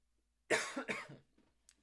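Two quick coughs close together, fairly close and moderately loud, followed by quiet.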